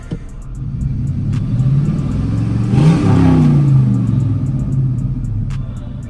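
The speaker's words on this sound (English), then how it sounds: "reverse is still gone, and it's still whining" A car with a failing transmission and no reverse gives off a steady rumbling run with a rising whine that swells in the middle, close by and alone without talk.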